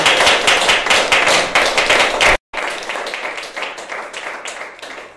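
Audience clapping at an award ceremony for model schools, a loud burst of applause with distinct hand claps, a brief cut, then thinner, quieter clapping tapering off.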